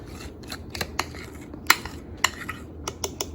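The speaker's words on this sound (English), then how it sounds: "I'm gonna use the fork to scrape all my brownie mixture into my baking pan" A fork scrapes brownie batter out of a bowl into a baking pan, giving a string of light, scattered scratches and taps with a few sharper clinks, fairly close and without talk.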